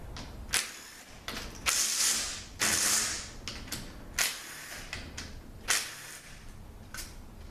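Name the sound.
removing bolts from Toyota A340 transmission valve body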